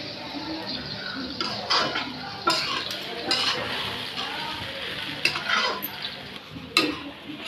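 Crumbled roti being stirred and sautéed in a pan for masala phodnichi poli, with a spoon scraping and clinking against the metal in irregular strokes over a faint, steady sizzle.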